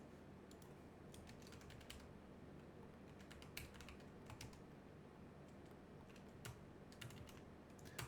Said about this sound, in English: Just writing in the chat for our Twitch viewers.